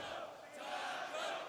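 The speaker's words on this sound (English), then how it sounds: "People cheering Taco now." Esports crowd in an arena at MLG Columbus 2016 cheering for a player during a Counter-Strike match, a sustained roar of many voices swelling and dipping slightly.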